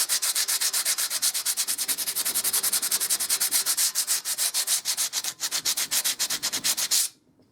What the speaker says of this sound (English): on these flat bits, just the sandpaper